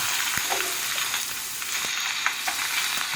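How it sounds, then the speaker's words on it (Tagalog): Pork sisig with onion and calamansi sizzles on a hot plate, a dense, loud crackling hiss with a few small pops, close and uninterrupted, no talk. "ililipat na po natin ito sa ating sizzling plate."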